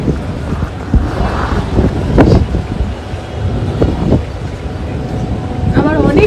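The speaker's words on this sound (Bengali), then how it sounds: "এটা এখন বেশ ঠান্ডা ঠান্ডা হাওয়া আসছে।" Cool evening wind gusts across a balcony before rain, giving a steady rumbling buffet on the microphone with a few louder gusts, while a voice speaks at times.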